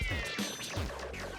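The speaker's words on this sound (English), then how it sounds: "So this boss is just your average house cat." A cartoonish house cat boss in the video game I Want meows in short overlapping calls over a busy, constant game soundtrack.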